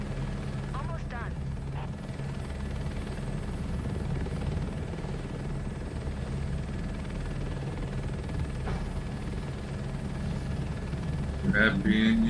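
Steady, loud rotor and turbine drone from a helicopter flown on a crop-dusting run in Microsoft Flight Simulator 2024, continuous for the whole stretch, with a voice briefly audible near the end.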